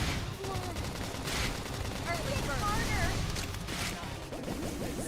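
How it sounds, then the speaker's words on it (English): A flame grenade goes off in the video game Xenoblade Chronicles X, a dense, sustained burst of crackling blasts and fiery roar amid combat noise, with a voice talking over it. "Flame grenade!"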